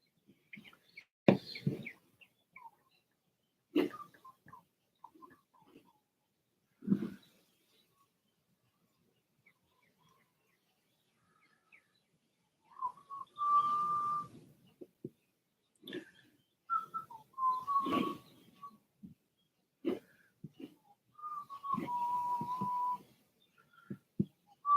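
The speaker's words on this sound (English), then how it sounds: "Birds are chirping outside." Birds chirping outside, faint and distant, in scattered short calls and a few clearer whistled notes separated by long quiet gaps.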